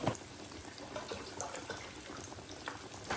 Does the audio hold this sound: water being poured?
yes